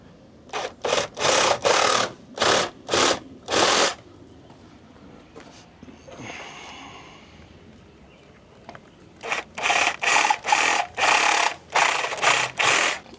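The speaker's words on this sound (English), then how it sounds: "cutting pipes" Pool sand filter pipes are cut by hand in two runs of rhythmic rasping saw strokes, about a dozen strokes in total, separated by a quieter pause. The strokes are close and loud, with no talk.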